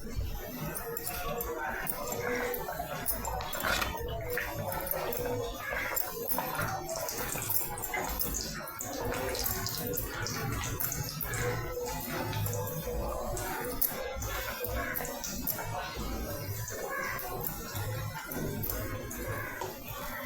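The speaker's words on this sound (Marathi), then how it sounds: "एक एक करून पुरी घालूया आपण" Puris are slipped one by one into hot mustard oil in a wok, producing a dense, steady crackling sizzle that runs unbroken and evenly loud throughout.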